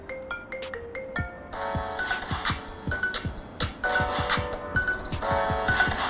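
A remixed marimba ringtone of a song plays as bright, plucked mallet notes over a steady electronic beat with punchy low kicks, clear and moderately loud, growing busier as the loop goes on.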